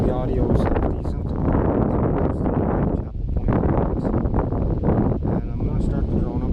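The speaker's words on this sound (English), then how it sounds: "It's a little windy here, but it doesn't seem too bad" Steady wind roars across an outdoor microphone at a spot where a drone is about to be launched, a dense continuous rush with buffeting that runs under someone talking throughout.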